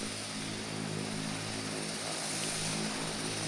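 A Cessna Caravan turboprop taxiing nearby, its propeller and engine producing a steady, continuous droning roar throughout, with no talking.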